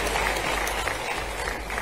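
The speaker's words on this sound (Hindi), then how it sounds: "जरा ताली वाली भिजवा दो सबके लिए।" Steady applause from an audience at a regional industry conclave in Madhya Pradesh, a continuous wash of clapping running the whole length without pause.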